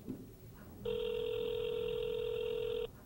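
A single steady electronic ringback tone on an outgoing telephone call to a mother, sounding for about two seconds at close level over faint room noise, then cutting off abruptly.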